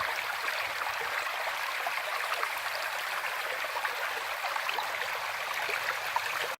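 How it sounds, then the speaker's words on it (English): A flowing stream at a fossil-hunting site, steady broadband rushing and trickling water close by, continuous and fairly loud throughout with no talk. "The water sounds relaxing."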